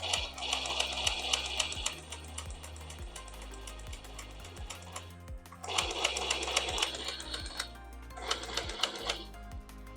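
Nerf Limited Aliens Pulse Rifle blaster flywheels revving with a steady low hum, overlaid by dense rapid mechanical clicking and rattling that swells, pauses briefly, then resumes loudly.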